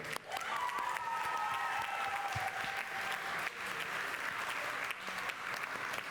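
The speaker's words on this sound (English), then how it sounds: "Can I get a big round of applause for all of you?" An audience at a final ceremony in a hall breaks into sustained applause, a dense wash of clapping that holds steady throughout.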